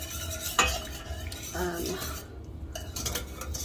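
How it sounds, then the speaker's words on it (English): Meatballs turned with a utensil as they brown in a pan over medium-high heat: soft scraping and light knocks against the pan over a steady low sizzle, close and continuous. "As I cook the meatballs on medium-high. And you just keep turning them."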